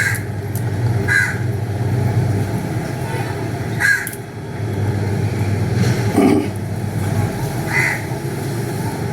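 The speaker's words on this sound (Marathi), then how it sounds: "कावळा काव काव करतोय" A crow caws a few times at a distance, short harsh calls spaced apart over a steady rumbling background hum.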